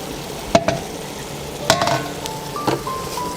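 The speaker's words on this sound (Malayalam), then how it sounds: "തുറന്ന് നോക്കി നമുക്കൊന്ന് ഇളക്കി കൊടുക്കാം." A Kerala-style chicken curry with curry leaves is stirred in a pan, giving soft scraping strokes and a few sharper clinks over a steady low sizzle, all close up.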